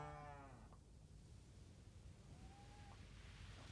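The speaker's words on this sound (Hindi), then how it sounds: "भैंस, भैंस की आवाज।" A buffalo at a buffalo stable gives a short, low moo near the start, followed by a faint, thinner call later, over a steady rumble of background noise.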